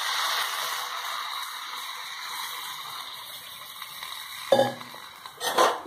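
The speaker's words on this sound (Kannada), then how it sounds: "ಮತ್ತೆ ಈ ಥರ ತಯಾರಿಸಿಕೊಂಡಾಗ ನಾನು ನೀರು ಹಾಕ್ತಾ ಇದ್ದೀನಿ." Beans frying in a pan give a steady, bright sizzle, then water is poured in, adding a splashing gush and a few clinks near the end, with no talk.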